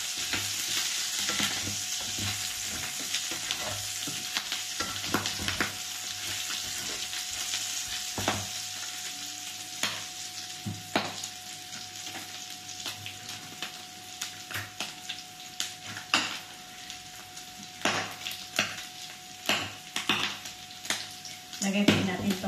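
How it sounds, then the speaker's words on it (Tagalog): Beef and garlic sizzle steadily in a pan, with frequent scraping stirs and utensil clinks against the pot recurring throughout; a faint voice is heard occasionally underneath. "Naprito na po natin ng konti yung ating karne. At inaayos na po natin yung ating bawang."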